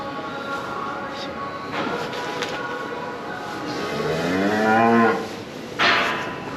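A Fleckvieh cross cow, a second calver, moos on a farm right after calving. One loud, drawn-out moo rises in the middle and a shorter call follows, over a steady background hum.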